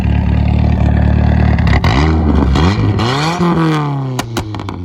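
Turbocharged VW Caddy engine under way, loud and close, revving up and down through gear changes with rising and falling pitch sweeps and some clatter.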